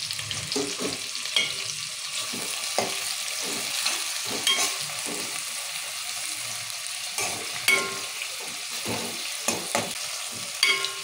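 Onions, tomatoes and curry leaves fry in a pan for masala brinjal, a steady close sizzle broken by repeated scraping stirs of a spoon against the pan.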